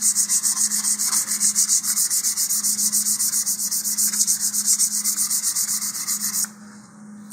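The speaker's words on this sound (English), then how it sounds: "So I'm just going to give this light sanding all the way around." Sandpaper rubs rapidly back and forth on a plastic nose cone of an Estes Vapor model rocket, a loud close rhythmic scratching that runs steadily for several seconds, then stops abruptly.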